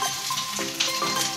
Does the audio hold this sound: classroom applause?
no